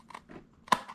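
Scissors trimming a piece of envelope paper for a DIY gift: two or three quick, close snips with a crisp cut near the end, no talk.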